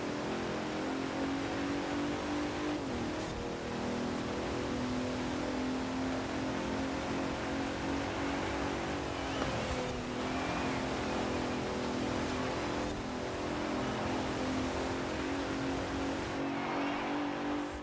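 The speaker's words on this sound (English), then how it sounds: "This Bentley sounds like a Range Rover." Bentley GT Speed engine in the video game Forza Horizon 4, a continuous, moderately loud droning rumble with shifting pitch and brief surges as the car accelerates and brakes, with no talk.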